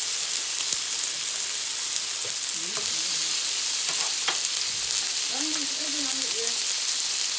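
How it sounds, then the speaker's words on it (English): Oil sizzles steadily in a hot frying pan, a dense, continuous hiss close by, with a few faint voice-like murmurs underneath. "I let the frying pan heat. Woo! We sizzling up in here."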